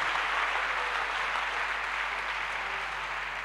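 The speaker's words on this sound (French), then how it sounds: "Les mamans, on acclame ces bergers" Audience applauding newly honoured shepherds during a year-end church service, a steady dense wash of clapping held at even loudness throughout with no voices over it.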